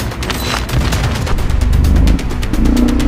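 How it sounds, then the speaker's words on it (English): Dense video game gunfire, a continuous loud barrage of overlapping rifle shots and booms from a military shooter, with no pause across the stretch. "You are taking effective fire."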